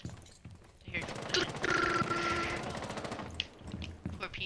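Rapid bursts of gunfire rattle in quick succession, rising to a dense, sustained barrage before tapering into scattered shots.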